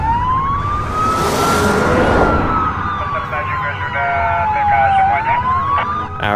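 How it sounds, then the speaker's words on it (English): Police sirens wail loudly over a rumbling background, their rising and falling tones overlapping as the vehicles draw near. "Then I heard the sirens."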